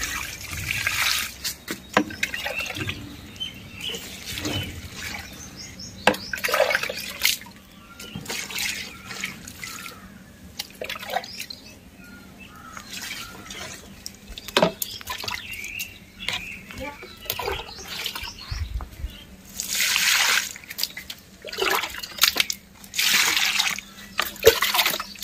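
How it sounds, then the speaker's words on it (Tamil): Liquid fertilizer being poured onto rose plants, a soft irregular trickling and splashing of liquid into soil, with faint birdsong and background sounds around it. "இதை வந்து எல்லா செடிக்கும் ஊற்றலாம்"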